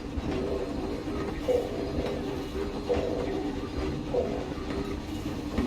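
A theme-park train ride in the Planet Coaster video game clattering steadily over the rails, a rhythmic clickety-clack with periodic wheel knocks, fairly quiet and with no talking.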